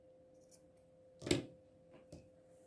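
Scissors make one sharp close snip through yarn while a tassel is trimmed for a handmade cat collar, followed by a couple of faint softer clicks in a quiet room.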